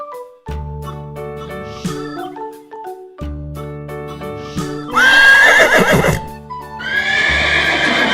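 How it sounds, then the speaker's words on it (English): Horses neigh repeatedly over backing music, with several loud, close whinnies, the last two rising sharply and trailing off. "Horse."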